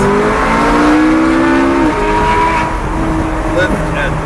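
A Lamborghini or McLaren accelerates on a race track, its engine rising in pitch through the revs and then dropping as it shifts, loud and close from inside the cabin.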